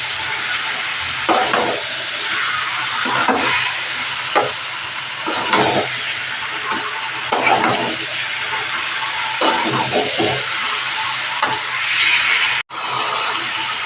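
Chicken and young jackfruit sizzling steadily in a hot pan as they are stirred, with a constant frying hiss and repeated scraping strokes from the spoon, loud and close.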